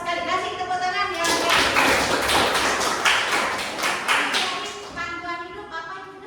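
Class applause in an Indonesian religious-studies lesson, a burst of many close hands clapping for about four seconds under a talking voice, then tapering off.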